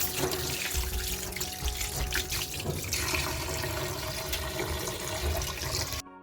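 Water runs steadily from a tap into a sink while freshly bought prawns and fish are rinsed, a continuous close splashing wash with some irregular handling noise throughout.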